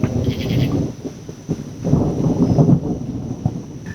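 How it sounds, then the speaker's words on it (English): Night thunder with rain outdoors, a dense low rumble and steady rain hiss rolling continuously at fairly loud level, swelling again midway through without any voices. "we've also got a little bit of thunder and some rain"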